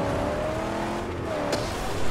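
Car engine droning steadily as a vehicle drives in the Mad Max video game on PS4, a continuous loud mechanical roar with a brief higher whine partway through, no talking over it.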